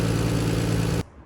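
A turbocharged Nissan Skyline R33 engine idles with a steady, loud, low rumble, then cuts out abruptly when it is switched off, leaving near silence. The engine has a fault that puts exhaust gases into the coolant system.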